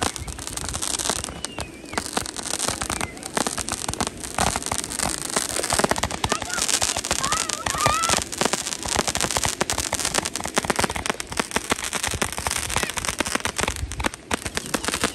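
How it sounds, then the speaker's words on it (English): Independence Day fireworks crackle and pop continuously, a dense spray of sharp bursts and sizzling crackles, with a few faint voices underneath. "Look at the fireworks."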